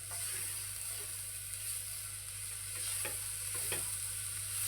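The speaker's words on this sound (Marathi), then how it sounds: "आता आपण गूळ आहे ना चांगलं मिक्स करून घेऊया. म्हणजे गूळ आहे ना मेल्ट झालं पाहिजे." Jaggery melting in a pan for coconut karanji filling is stirred under a soft, continuous sizzle, with a few brief scraping strokes later on.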